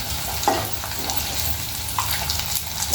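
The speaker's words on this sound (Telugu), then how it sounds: "పచ్చివాసన పోయే వరకు ఇట్లా మంచిగా ఫ్రై చేసుకోవాలి ఉల్లిపాయలు" Sliced onions fry in oil in a pan for chicken fry, making a constant hissing sizzle with a couple of light stirring knocks, close and fairly loud, without talk.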